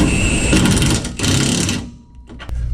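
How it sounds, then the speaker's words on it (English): A power tool whirs up close while bolts are tightened on a Wisefab angle kit on an S550 Mustang, two loud sustained runs separated by a short pause. "We'll tighten up our bolts here, which is going to lock your rod end in place."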